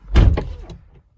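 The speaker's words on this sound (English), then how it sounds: "if we hop inside and we shut the door" A Maserati GranTurismo MC's door swings shut with a single solid thud, heard from inside the cabin. The impact is close and fairly loud and dies away quickly into quiet.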